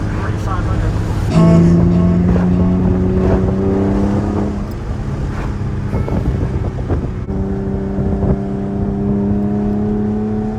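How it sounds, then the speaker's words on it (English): A 2002 Porsche 911 Carrera drives along with its exhaust droning steadily from inside the cabin, the pitch climbing through a pull before easing off and rising again, with wind noise and someone talking over it. "my favorite part about this whole entire car, the exhaust note"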